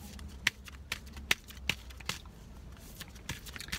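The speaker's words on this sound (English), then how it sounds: "I'm gonna just shuffle the cards right here." Oracle cards being shuffled by hand outdoors, a series of sharp riffling snaps and flicks at irregular intervals over a low background hum, with no talking.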